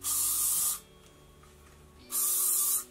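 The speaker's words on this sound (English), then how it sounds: "So I'm just going to lightly spray them now." Two short, loud bursts of aerosol hairspray, each under a second, with a quiet pause between them.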